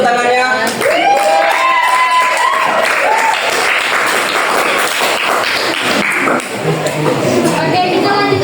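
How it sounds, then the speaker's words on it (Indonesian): Steady, loud applause from a small group at a podcast-style religious discussion fills the whole stretch, with voices and cheering mixed into the clapping. "Boleh tepuk tangannya?"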